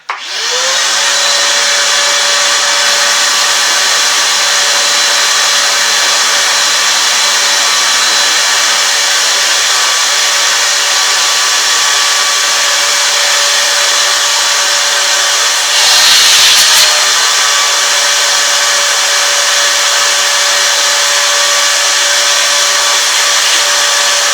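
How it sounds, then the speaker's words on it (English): A vacuum cleaner gives a loud, steady motor whine with a high-pitched hum, running continuously and alone, with a brief bump in the noise partway through. "But I still want to take my vacuum. So mind the noise, it's going to get loud."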